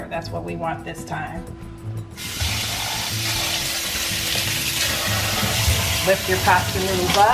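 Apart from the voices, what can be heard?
cold tap water running over drained pasta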